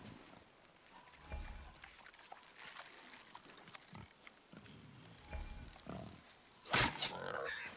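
A wild boar grunting and snorting in the video game God of War, a series of low rough grunts scattered over several seconds amid forest ambience, ending in a louder harsh squeal-like burst.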